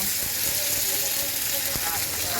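Boiled potatoes go into stinging catfish curry frying in a pan, producing a loud, close, steady sizzle with a couple of sharp clicks.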